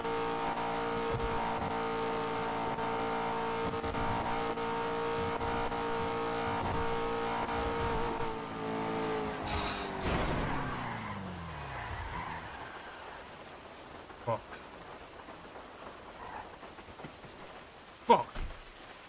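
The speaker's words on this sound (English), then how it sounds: "Should we test drive it?" An S-Class car's engine hums steadily in GTA V NoPixel during a test drive, its tone winding down and fading out midway and leaving quieter road and ambient noise with a few faint knocks.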